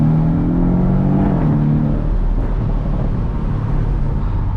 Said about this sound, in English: I currently have this car in sport mode, which opens up the exhaust valves and just really makes this thing roar